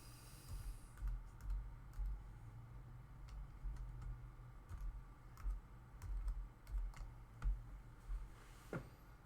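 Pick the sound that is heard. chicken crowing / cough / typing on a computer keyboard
typing on a computer keyboard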